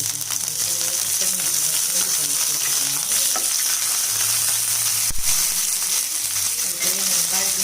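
Curry leaves and urad dal crackle loudly in hot oil, a dense close sizzle with scattered pops and a few stirring taps, no speech heard.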